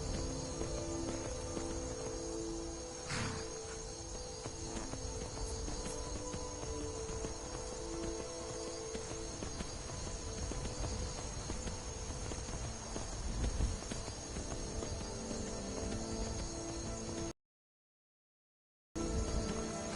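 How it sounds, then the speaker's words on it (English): Horses clip-clop in the video game Skyrim as a steady rhythmic patter of hooves under a constant dense ambient game soundscape, with a short dropout near the end. "Bunch of horses here."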